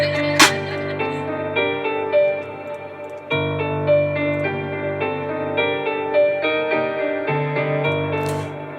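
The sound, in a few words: second part of instrumental without Gross Beat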